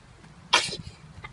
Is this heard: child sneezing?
yes